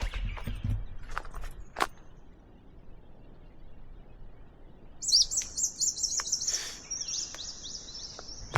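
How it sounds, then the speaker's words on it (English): Bird calls in an outdoor bush setting, with a few scattered chirps early on, then a dense burst of rapid high trilling and tweeting from around five seconds on, some footsteps and rustle underneath. "Bird calls? Pretty amazing down here. You can just hear them firing off from all different directions."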